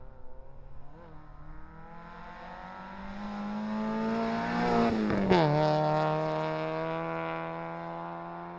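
A rally car races along a stage, its engine note climbing as it approaches, then peaking and dropping sharply as it roars past close by before fading away.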